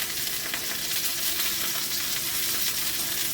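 Pork slices frying in a pan for a ginger pork steak, giving a steady, dense sizzle that holds level throughout with no talk over it.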